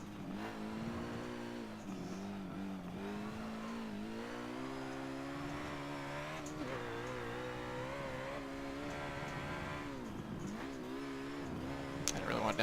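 Race car engine in Forza Motorsport 7 revving with rising and falling pitch through a downshift, a steady loud drone with harmonic sweeps and a brief tire squeal near the end, under occasional talk.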